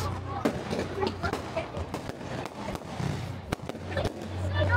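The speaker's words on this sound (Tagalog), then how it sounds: "Dami ng fireworks." Fireworks burst at a small-town Canadian Christmas tree lighting, a steady run of sharp pops and thuds scattered over nearly five seconds while nearby people chat excitedly over the outdoor crowd noise.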